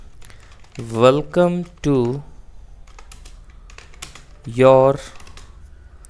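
Scattered soft clicks of a computer keyboard as a Python movie ticket booking program is typed, faint taps falling in the pauses between a man's speech.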